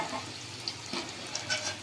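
Chicken pakoras fry in hot oil with a close sizzle, a few sharp crackles and a clink of a utensil against the pan.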